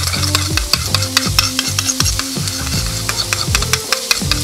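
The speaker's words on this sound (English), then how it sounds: "Lemon juice. Garlic. Stir, stir, stir, stir, stir," Garlic and lemon juice are stirred in a sizzling pan, with a steady hiss of frying and rhythmic scraping strokes repeating roughly every half second, close and clear with no voices.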